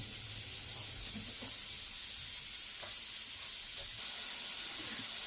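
Rice cooking in a pan for a keto meal prep gives off a steady, even hiss and sizzle throughout, with no talking.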